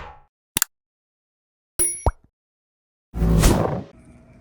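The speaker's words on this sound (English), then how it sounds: "we threw the sockets and extensions inside the ultrasonic cleaner" Metal sockets and extensions drop into an ultrasonic cleaner: a couple of quick, sharp clinks, then a second clatter with a ringing tone, and finally a louder, longer splash of liquid, all close up with silence between.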